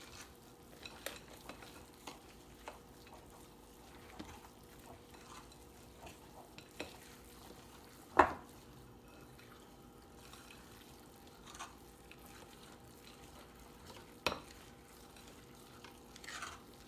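Quiet, intermittent scraping and clinking of a utensil stirring a thick chocolate mixture for s'mores bars in a bowl, with occasional sharper taps against the side.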